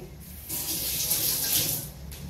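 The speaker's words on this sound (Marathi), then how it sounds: "ही रवी मी आता फक्त साध्या पाण्याखालनं काढणार आहे" Tap water runs in a steady close hiss as a butter churner is rinsed under it, rising for about a second and a half before easing off, with no speech.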